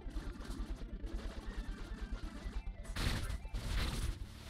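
Rapid bursts of machine gun fire from the video game Necrosmith, a dense rattling stream that swells into heavier, louder volleys toward the end, with no talk over it.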